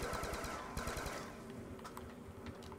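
Fast rattling automatic gunfire from Call of Duty Black Ops 2, a dense spray of rounds that thins into scattered shots, moderately close in the game mix.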